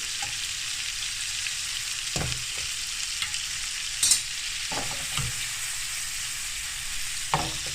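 Shrimp seasoned with salt and white pepper fry gently in a pan, giving a steady soft sizzle broken by a few sharp crackles and light clinks of stirring; no one talks.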